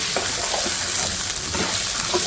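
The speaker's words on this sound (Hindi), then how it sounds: "अब हम इसमें डालेंगे कलेजी जो हमने वॉश कर लिया अच्छी तरीके से, और इसकी हमने करनी है भुनाई खूब अच्छे तरीके से" Washed chicken liver sizzling and frying in a pan, a dense, steady hiss with faint stirring scrapes throughout and no voices.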